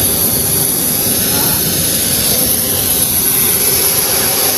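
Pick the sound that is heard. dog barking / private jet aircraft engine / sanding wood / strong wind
private jet aircraft engine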